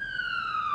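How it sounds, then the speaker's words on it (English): An emergency vehicle siren in Farming Simulator 19 sounds as one steady, slowly falling electronic wail, close and fairly loud, lasting under a second with no voices. "All right, siren off."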